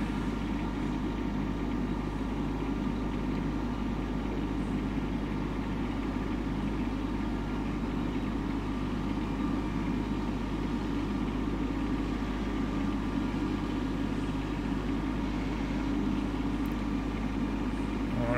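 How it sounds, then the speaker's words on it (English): Steady low drone of a tractor engine idling at a farm garden, even and continuous throughout with no changes in pitch or rhythm, moderately distant. "Alright, so I've got the tractor out."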